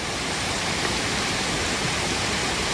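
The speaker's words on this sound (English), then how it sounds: "Another set of steps with another little waterfall right beside." Steady rushing water from a small waterfall, a continuous broadband splash and hiss with no pauses, fairly close and loud.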